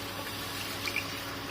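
A full litre of water pours into a cooking pot for haleem as a steady, close rushing splash with no talking.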